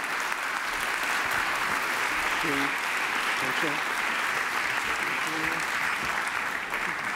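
A forum audience in Avignon applauds steadily, a broad, even wash of many hands clapping from start to finish, with a brief voice and a few tonal sounds surfacing faintly beneath it.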